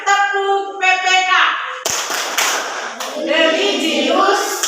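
A classroom group claps out a rhythmic routine, patterned bursts of hand claps alternating with children's chanting voices, loud and close.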